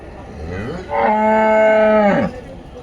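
A buffalo at a monthly cattle market in Dhanaula gives a single loud, drawn-out low, rising from a rough throaty start into a sustained tonal moo and fading after about a second and a half, close and alone.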